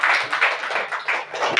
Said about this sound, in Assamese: আমি হাত চাপৰি বজাই মিলি পাষ্টৰক ওয়েলকাম কৰোঁ